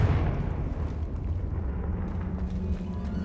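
Confringo spell explosion in Hogwarts Legacy, a loud rumbling blast that rolls out into a sustained low roar, heavy in the bass and fading only slightly over a few seconds.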